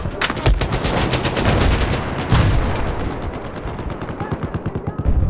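Rapid automatic gunfire and explosive bursts rattle through a Battlefield 4 tank battle on the Altai Range map, a dense, loud stream of shots with a few heavier impacts and no talking.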